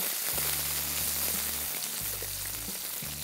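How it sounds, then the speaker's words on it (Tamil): Small onions sauté in hot oil for a Tamil tamarind curry, a steady dense sizzle that fills the whole clip, with a low hum underneath and no talking. "5 நிமிஷம் இதை ஆயிலில் சாட்டே பண்ணுங்கள்."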